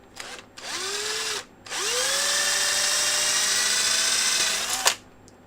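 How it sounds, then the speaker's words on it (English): A power drill bores a hole in the plastic handle of a Hoover Platinum vacuum, a brief rising whine, a pause, then a long sustained loud drilling run that winds down, close up with no talk. "So I'm going to drill the hole there right now."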